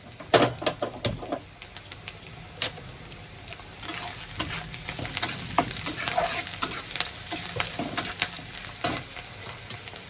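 Fried rice is stirred in a wok, with a steady sizzle broken by irregular scraping and clacking strokes of the spatula against the pan, close and continuous, with no talking.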